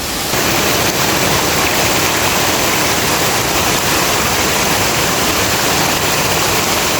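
Waterfall in Agusan del Sur, Mindanao, heard from its base as a loud, steady, dense roar of rushing water that stays unbroken throughout.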